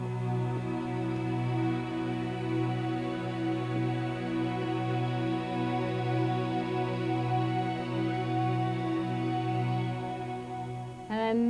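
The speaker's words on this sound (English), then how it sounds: "this is just a pretty straight ahead string sound" Sustained ensemble strings patch from a Kurzweil K2000 synthesizer, a smooth held chord with steady level throughout, a brief note change near the end, no voices.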